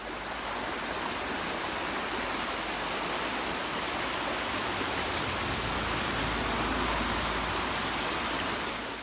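Goliath Falls on the South West Coast Path, a waterfall and river rushing in a dense, continuous roar that stays steady and close throughout, with no voices.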